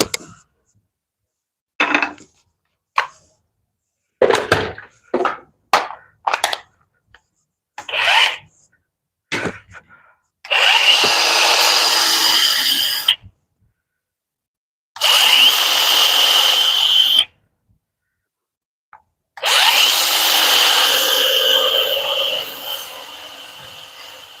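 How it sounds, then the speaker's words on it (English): A power sander works a piece of wood up close, first in a string of short, sharp bursts and then in three longer, steady whining passes separated by brief silences. "We can start sanding that thing around as well."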